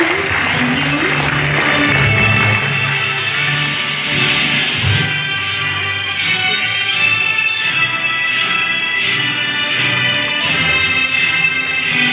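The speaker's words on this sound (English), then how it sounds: "A big round of applause for their parents, please." Applause from the audience at a school graduation ceremony, continuous clapping over about twelve seconds, with crowd murmur and some voices or music-like tones mixed in.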